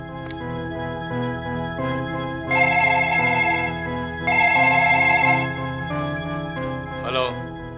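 A telephone rings in an indoor scene from a Kannada TV serial, sounding as two sustained, bright electronic ringtone bursts over a steady tonal background.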